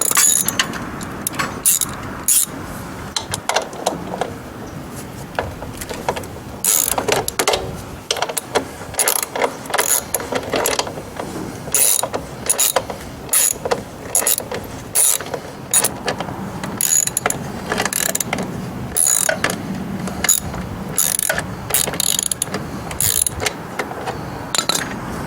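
Ratcheting and metallic clicking from a wrench loosening the exhaust pipe clamp bolt on a GY6 scooter, a steady run of close, dense mechanical clicks and scrapes with no talk.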